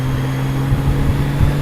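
Steady engine drone of a motorcycle riding through Washington DC traffic, with a low continuous hum and faint passing vehicle sounds, no talking.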